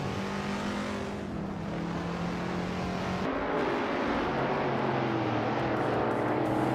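A 1948 Ferrari 166 Inter racing in a video game, its engine droning steadily with sustained tonal whine that shifts pitch partway through as it changes gear, loud and continuous with no talk.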